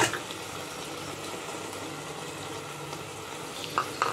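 Tamarind pulp frying with spices in a pan for dalcha gives off a soft, steady sizzle close by, with a couple of faint clinks near the end.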